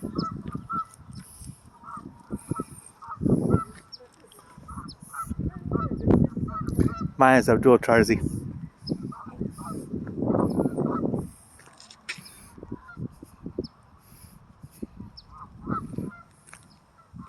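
Geese honking outdoors near large wolf-like dogs, a flock calling in repeated nasal honks that build into a loud overlapping burst mid-way, with a brief spoken phrase over them.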